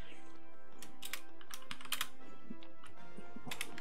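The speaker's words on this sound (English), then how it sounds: "Sorry, I'm typing some shit." Someone types on a computer keyboard in quick clusters of clicking keystrokes over a steady background hum, close and fairly clear.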